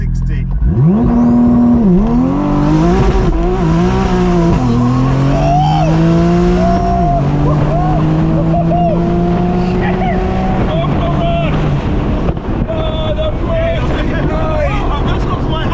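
A 1500-horsepower Porsche 911 Turbo S launches from 0 to 60, its engine roaring loudly and climbing through rapid gear changes, with brief shift dips and an excited voice over the run.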